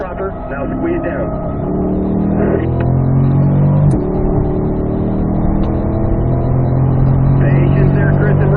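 A Corvette accelerates in third gear on the North Course at Ron Fellows Corvette School: a loud, continuous engine drone builds and holds, with a man coaching over the engine throughout.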